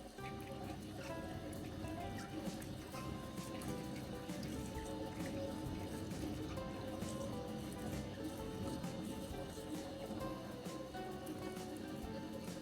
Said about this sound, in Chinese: 接着用流动清水反复漂洗多遍，直至荔枝果皮鮮亮通透